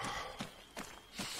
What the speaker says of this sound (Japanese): 足音とかも変わってんな。